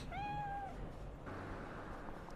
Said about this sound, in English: Little ugly kitty.